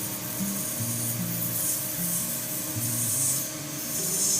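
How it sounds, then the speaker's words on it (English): A lathe cutting into a spinning shaving brush handle, giving a steady close rubbing, rasping scrape with a low humming motor tone underneath, continuous and unbroken, no talk. "get something to cut right on the lathe"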